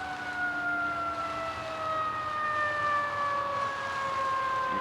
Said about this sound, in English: You can hear a siren going.